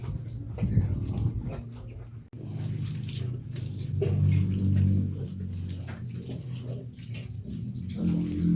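Water runs across the floor of a house while laundry is being done, a steady low washing flow with scattered splashes and knocks, fairly quiet and without talking.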